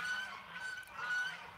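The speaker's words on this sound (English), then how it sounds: "The geese are losing it here." Geese honking at a duck pond during a live evening stream, a couple of clear, moderately distant honks over quiet outdoor background.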